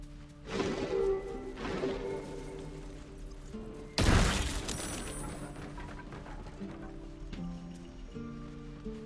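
A sudden loud burst from an explosion in Baldur's Gate 3 cuts in midway and decays into a rumbling tail, preceded by two softer thuds and followed by quieter game effects.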